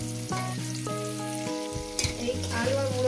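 Potatoes and radish frying in a pan of oil for a vegetable chorchori, a steady close sizzle with some stirring and tonal background music over it, no talking.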